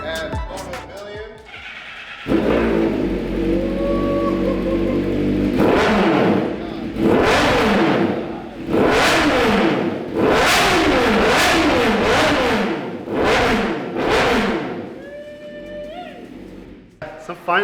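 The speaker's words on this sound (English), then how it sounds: "They just started the bike indoors, so my eyes are burning." A motorcycle fitted with Akrapovic titanium headers and an SC Project exhaust, started indoors, revs hard in repeated loud bursts between idling stretches, close and echoing, with faint voices underneath.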